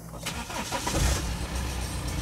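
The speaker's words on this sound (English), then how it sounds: "I'm very sure that this remote control will start the car." A BMW engine cranking and firing up after a remote start from a repaired key fob, the starter catch followed by a steady, fairly loud idle close by, with a voice briefly heard.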